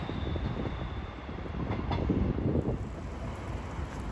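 Class 156 diesel multiple unit passing at Deansgate, a steady rumble of wheels on rails mixed with wind noise, fairly distant and continuous.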